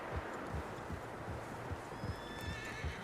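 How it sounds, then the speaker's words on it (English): Several horses in the Western game Red Dead Redemption 2 clop along in a steady hoofbeat rhythm, with a neigh rising over the footfalls toward the end, fairly close and without speech. "Horses, quite a few of them."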